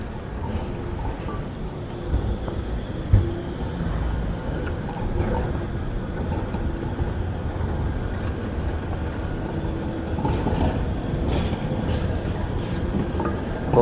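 A large train running along the tracks at a station in Manchester, a steady low rumble and rolling clatter that stays fairly loud throughout, with a brief sharp knock partway in.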